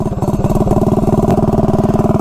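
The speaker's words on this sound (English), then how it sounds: "Tilly 212 with a CRF 150 carb on the Doodlebug" Close and loud, a Tillotson 212 minibike engine fitted with a Honda CRF150 carburetor chugs in a fast, even thumping rhythm, holding steady throughout with no speech.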